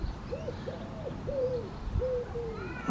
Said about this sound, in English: Yeah, female chaffinch it is.